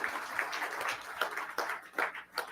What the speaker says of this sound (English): How about one more applause for the 4A State, Washington State 4A State girls basketball champs.